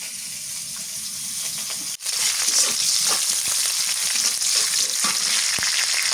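Tender young greens sizzle in mustard oil in a village kitchen pan, a steady close frying hiss that jumps louder after a sharp clink, with occasional stirring scrapes and no talking.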